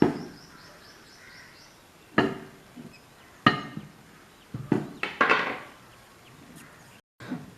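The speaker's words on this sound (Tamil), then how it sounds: "இப்போ கத்தியால் இந்த ஜாயிண்ட்டை லைட்டாக நீக்கி விடணும்." A knife trims the seam joint of a homemade candle mould in a few sharp, close scraping cuts spread over several seconds, with quiet pauses between them and no talking.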